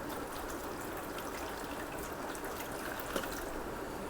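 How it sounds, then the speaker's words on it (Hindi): Water poured onto a microgreens growing tray, heard as a steady, close trickling wash that runs the full length with one small splash near the end, no talking. "इस तरह पानी डालिए,"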